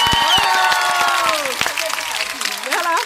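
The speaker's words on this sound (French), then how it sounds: "On applaudit." A small home group claps and cheers for a sister's engineering graduation, with excited voices calling out over close, busy clapping that continues throughout.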